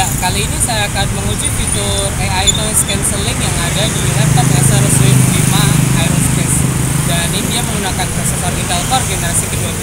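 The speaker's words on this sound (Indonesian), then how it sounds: "di belakang ada jalan raya, kendaraan lalu-lalang lumayan ramai." Busy road traffic on a main road passes continuously behind an outdoor speaker, a steady rumble of vehicles running under close, clear talk throughout.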